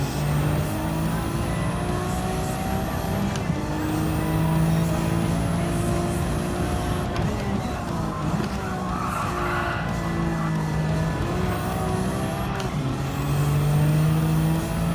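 Race car engines whine and rev continuously during a Gran Turismo 7 race, with gear shifts, tire squeal and skidding layered over a loud, dense engine drone.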